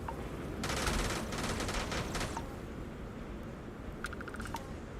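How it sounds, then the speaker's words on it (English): Distant gunfire from a battle in the video game Starfield: a rapid automatic burst of shots, then a shorter burst a couple of seconds later, faint over a steady ambient background with no talk. "Sounds like there's a battle already kind of going on somewhere."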